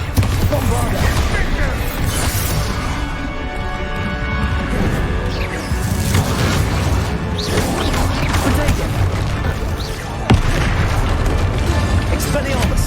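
Bombarda spell explosions booming and crashing in Hogwarts Legacy during a final boss fight, dense and continuous with repeated blasts and a sharp hit near the end, mixed with game music and voices.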